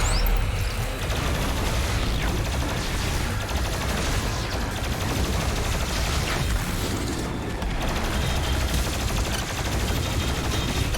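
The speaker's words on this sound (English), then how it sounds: "Plasma rifle." Plasma rifle firing in a demon-fighting shooter game, a relentless dense barrage of rapid energy shots and booming impacts, loud and unbroken throughout.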